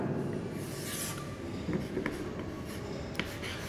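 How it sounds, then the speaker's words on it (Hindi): Continuous marker or chalk scratching on a board during a physics class, with strokes and short taps in quick succession at close range, no talking. "मैं यहां लिख दे रहा हूं।"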